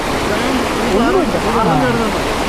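Kuthumkal waterfall in Idukki pours with a loud, steady roar of falling water, and voices talk over the rushing noise.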